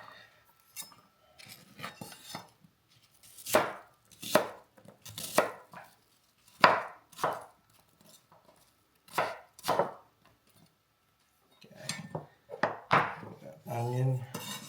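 A knife chops through a strong onion on a board for a Filipino chicken adobo, sharp irregular thuds coming in bursts with pauses, close and fairly loud, ending in a short scraping run.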